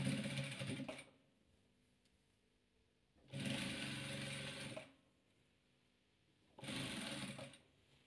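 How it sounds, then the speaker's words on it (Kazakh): A sewing machine stitches a patchwork quilt block in three bursts of steady, close whirring, each lasting about one to two seconds, separated by quiet pauses with no talk. "Енді мына жартысын тігемін."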